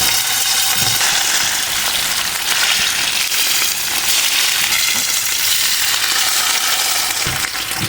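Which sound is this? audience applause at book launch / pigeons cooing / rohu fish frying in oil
rohu fish frying in oil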